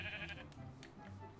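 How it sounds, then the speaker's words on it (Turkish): Blocky sheep bleating inside a zoo enclosure in the video game Minecraft, a few short repeated bleats set against a steady game background with no talk. "Bak oğlum burada koyunlar var."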